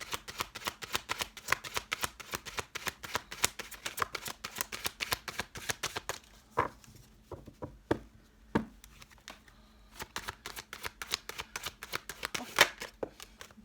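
A deck of tarot fortune cards shuffled by hand, a dense rapid riffling patter that runs almost continuously, easing briefly in the middle before resuming, close and quiet.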